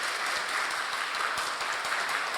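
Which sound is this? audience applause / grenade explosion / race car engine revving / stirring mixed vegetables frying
audience applause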